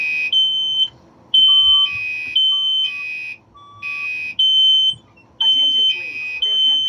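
Building fire alarm sounding close and loud, shrill electronic tones pulsing in repeated bursts with brief gaps, plus a lower beep, and an announcement voice coming in near the end.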